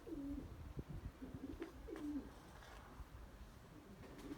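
Pigeons coo in soft, repeated throaty calls, several overlapping phrases close by over a low background murmur.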